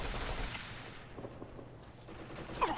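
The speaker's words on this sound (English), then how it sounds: "We're getting shot at." Gunfire in the military shooter game Operation Flashpoint: Red River, a continuous rattle of distant-sounding rifle and machine-gun shots that stays fairly quiet.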